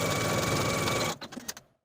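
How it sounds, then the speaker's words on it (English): A sewing machine runs steadily while understitching a 1/8 inch seam along a dress pocket, a continuous close whir that stops abruptly near the end, followed by a few short clicks and handling sounds. "You're going to sew this pocket to its seam allowance with a 1/8 inch seam allowance from top to bottom."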